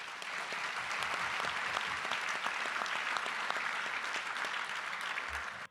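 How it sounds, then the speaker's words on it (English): Sustained applause from an audience at a gala evening honoring a foundation, a thick, even roar of many hands clapping that keeps going and then cuts off abruptly at the very end. "Can we get a round of applause for the foundation?"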